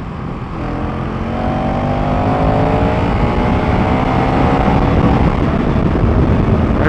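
A KTM 390 Duke motorcycle with a quick shifter revs hard, its engine note climbing in repeated rising sweeps as it shifts up through the gears, loud and close, with no talking.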